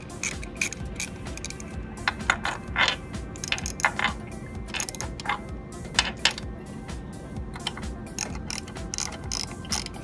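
Four motor mounting bolts being tightened with a ratchet, rapid clicking bursts close up in irregular runs, with metallic clinks between them.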